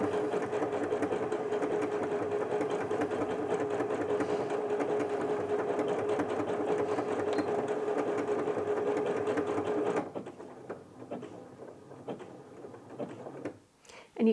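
A Janome 230DC sewing machine stitches a decorative pattern with a steady mechanical whir and hum for about ten seconds, then stops, leaving a few soft clicks and handling noises.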